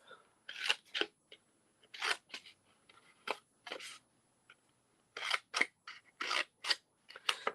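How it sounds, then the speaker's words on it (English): Scissors snipping paper while making Christmas crackers, a series of close, crisp cuts in short bursts separated by quiet pauses. "then I'm going to cut, leaving a little space, and then cutting those off"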